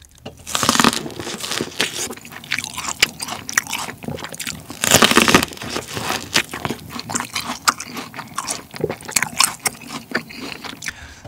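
Raw sweet corn (chodang variety) crunched and chewed up close, with loud juicy bites and crackling mastication coming in repeated bursts, two especially loud crunches standing out, and no talking.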